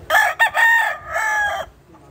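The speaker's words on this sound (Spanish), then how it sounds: "Aquí llegaron los gallos, pleba." Rooster crowing on a Mexican ranch, one loud, close drawn-out cock-a-doodle-doo with a short break partway, heard alone and then fading into quiet.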